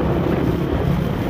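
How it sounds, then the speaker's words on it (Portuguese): Loud wind buffets the microphone during a motorcycle ride, a constant dense low roar with no breaks and no voices. "Olha o vento. Pera aí, gente. Tá ventando demais."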